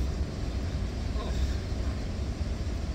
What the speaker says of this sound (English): you can hear the falls in the background